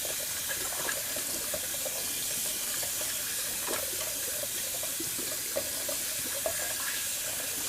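A bathroom tap runs steadily while a synthetic shaving brush is rinsed under it, with a constant hiss of flowing water and small splashy variations, no talk.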